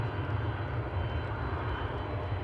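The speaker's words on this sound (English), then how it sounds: "I think there's a plane behind me" An airplane flies near Toronto Pearson Airport on New Year's Eve, a steady, loud low engine roar that holds evenly throughout and echoes off nearby buildings, with no voices.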